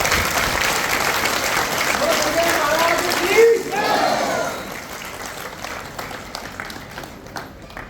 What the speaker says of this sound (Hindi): मैं ताली बजाकर जी न्यूज़ का स्वागत करता